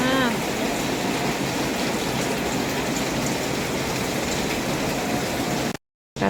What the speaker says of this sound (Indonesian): Hujannya.